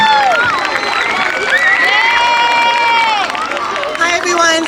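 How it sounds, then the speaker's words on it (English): A school PTA gathering responds with cheering and clapping, loud crowd noise dominated by high, sustained shouts and children's voices over scattered applause. "Give her a big round of applause, please."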